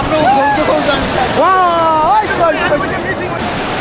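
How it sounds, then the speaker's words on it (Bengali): Busy crowd hubbub with voices calling out over a steady wash of surf on a packed sea beach at Cox's Bazar during a holiday, the noise dense and close throughout. "দেখতে পাচ্ছেন সমুদ্রের গর্জন আর মানুষে মানুষ লোকারণ্য"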